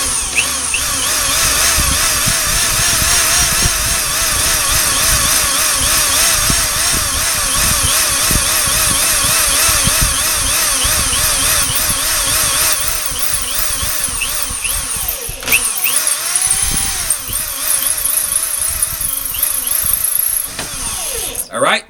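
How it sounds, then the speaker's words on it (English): Power drill boring into the front end bell of a Pentair Whisperflo pool pump, a loud steady whine that runs nearly the whole time with slight speed wavering, with a person talking alongside. "Then you want to take your drill, just like this, and you want to drill out."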